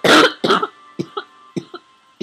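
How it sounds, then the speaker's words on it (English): Two heavy coughs close to the microphone, followed by several shorter, lighter coughs in a quick uneven series. "I have a cold right now and a cough"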